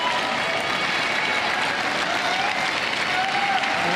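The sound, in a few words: crowd applauding at Paris 2024 boccia match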